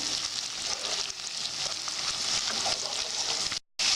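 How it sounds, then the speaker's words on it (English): Tomato paste and onions fry for goat stew, giving a steady, close hiss of oil sizzle that runs almost unbroken before a short gap near the end. "Once the tomato paste and onions are fried for a little bit"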